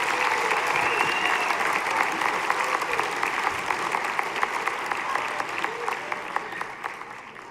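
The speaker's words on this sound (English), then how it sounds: "Big round of applause for all of them." Audience at a middle school winter concert claps for the performers, a dense sustained round of applause up close that slowly fades toward the end.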